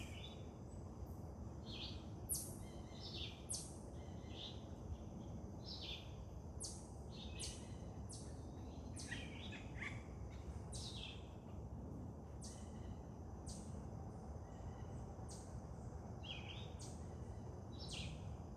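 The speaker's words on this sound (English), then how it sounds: "I only hear the birds enjoying their morning." Morning birdsong in a forest, several birds chirping and trilling in short repeated phrases, moderately distant and soft over a steady low background hush.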